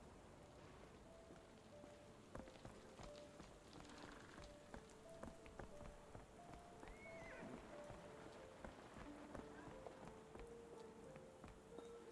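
Rain falls steadily and faintly in the video game Sherlock Holmes The Awakened, with scattered drops and a soft background hiss, alone and without speech.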